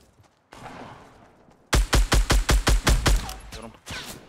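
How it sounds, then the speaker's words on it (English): Gunfire in the video game Fortnite: a distant burst, then a rapid string of about nine loud, evenly spaced shots. A few scattered shots follow with no talk over them. "Somebody's shooting at you, by the way."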